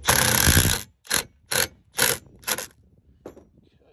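A hand ratchet tightening a Turbosmart blow-off valve onto the intercooler of a Ford EcoBoost engine, giving a long loud burst of clicking followed by four shorter ratcheting strokes and a faint final click, close up.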